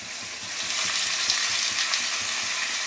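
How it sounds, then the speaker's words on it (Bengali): Tomato and capsicum frying in hot oil for a meat curry produce a continuous, even, close sizzle with faint stirring underneath. "আর এখানে আমার মাংসের জন্য আমি টমেটো দিয়েছি, ক্যাপসিকাম দিয়েছি, এটা ভাজা হোক"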